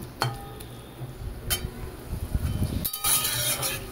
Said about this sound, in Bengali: সব মশলাটাকে আর এই সবজিটাকে একসাথে ভালো মতন মেশাবো